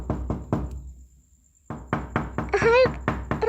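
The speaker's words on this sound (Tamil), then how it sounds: "யாரோ கதவை தட்டுறாங்க." Rapid knocking on a door, quick bursts of sharp raps with a short pause between, near and loud, while a voice and a faint tone sound over the later knocks.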